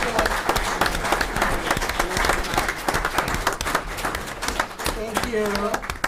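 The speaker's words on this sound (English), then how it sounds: "Let's give him another round of applause." An audience at a city council meeting claps for an honored guest, a dense patter of hands that fades toward the end, with voices mixed in.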